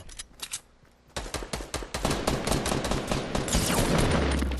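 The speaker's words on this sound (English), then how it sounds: "Getting shot from both angles." Rapid automatic gunfire from a Fortnite match, dense bursts of shots rattling almost without pause and growing louder and more continuous toward the end, with no voices over it.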